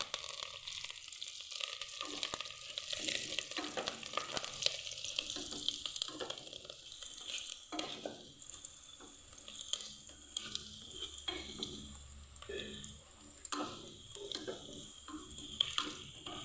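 Ginger, garlic and curry leaves sautéing in a pan for a vegetable kurma, with a steady close sizzle and frequent scraping stir strokes throughout, no talking.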